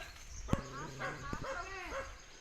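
A small dog gives a few short yips and barks close by, with a sharp knock at the start and faint voices in the background.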